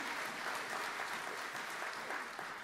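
A church congregation claps and cheers in a steady, even wash of applause that fills the room without a break, moderately distant and with no clear voices standing out.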